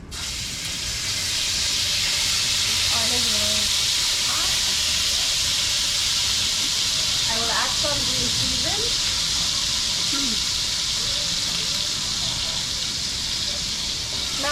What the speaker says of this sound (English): I'll go ahead and fry my chow mein up while this is cooking